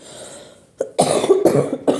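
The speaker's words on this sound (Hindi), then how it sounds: "खांसी बहुत ज़्यादा आ रही" A person coughs several times in quick succession, close and fairly loud, with a short throaty sound leading in.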